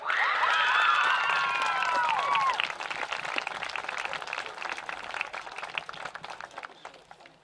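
Outdoor crowd cheering with high whistles over sustained applause at a high school football homecoming, the cheers fading after a few seconds while the clapping continues and slowly dies down.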